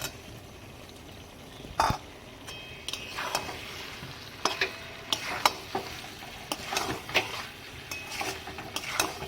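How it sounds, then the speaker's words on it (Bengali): Fried potatoes stirred into a simmering mutton curry in a pan, a spatula scraping and clattering in irregular strokes over a soft background sizzle, close and fairly loud. "এবার দিয়ে দিচ্ছি ভেজে রাখা আলু।"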